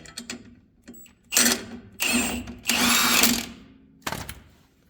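A part is screwed into a rear shock mount on a Ford F100 truck, heard as short bursts of power-tool whirring and metallic rattling separated by brief pauses, close and fairly loud.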